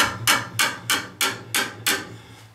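Knocking on an old 1.5 inch copper drain pipe to judge a clog: six evenly spaced sharp metallic taps, close and clear, with no voices.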